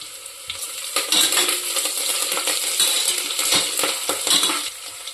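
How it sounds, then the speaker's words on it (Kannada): Onions frying in oil in a pressure cooker for vangibath, a steady close crackling sizzle with light clinks of a spoon against the pot, no voices. "ಸ್ವಲ್ಪ ಕೆಂಪಗಾದಂಗೆ ಈರುಳ್ಳಿ ಬೇಯಿಸಬೇಕು"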